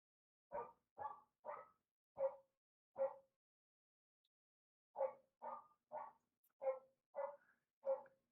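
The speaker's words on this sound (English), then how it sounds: "that is not my dog. That is my neighbor's dog." A neighbor's dog barks in two sets of sharp, evenly spaced woofs, five and then seven, each clear and moderately close against a silent background.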